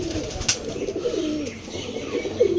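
Pigeons cooing in a small backyard loft, soft throaty coos repeating close by over a murmuring background with a brief chirp.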